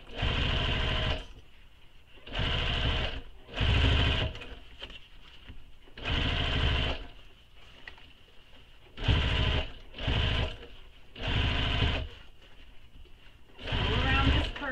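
A sewing machine stitches through both layers of a crossbody bag held down with double-sided tape, sounding as seven or eight loud, close bursts of steady stitching about a second each, separated by brief pauses with some talk.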